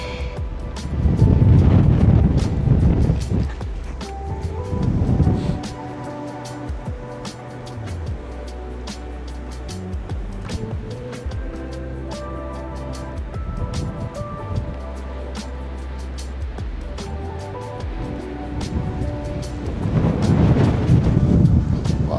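Strong wind buffets the microphone outdoors near a waterfall and mountain village, roaring in heavy low gusts that swell and fade across the clip, with steady rumbling between blasts.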